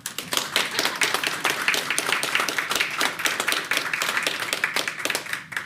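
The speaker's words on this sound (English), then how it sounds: "You can clap for her." An audience claps at a ribbon-cutting for a COVID-19 center in Queens, a loud, close, continuous patter of many hands with sharp individual claps throughout, no talking over it.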